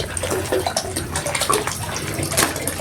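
Water is poured into a homemade calamansi and lemon dishwashing liquid mixture to thin it, a close, splashing gush of liquid running for a few seconds with no talking.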